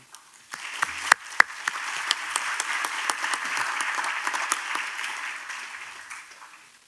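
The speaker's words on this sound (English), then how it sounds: "Let us give once again a big round of applause to the speakers of this session." Applause at the opening ceremony of the BRIDGE for Cities conference begins with a few scattered claps and swells into moderate, fairly soft clapping from the audience before tapering off.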